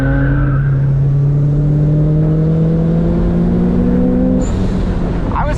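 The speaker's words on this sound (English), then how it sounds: "This GTR sounded great, so I'm just going to let this lap play through so you can see how these two cars compared" A Nissan R32 GTR races a track lap. Its engine holds a loud, steady drone with rising harmonics through a long pull, then cuts off sharply near the end as the next gear or a brake takes over.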